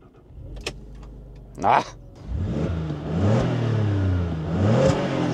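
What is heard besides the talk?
2006 Alfa Romeo Brera 3.2 JTS engine starting and revving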